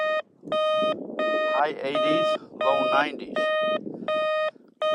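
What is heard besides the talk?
entry-level Pancky metal detector ringing up a target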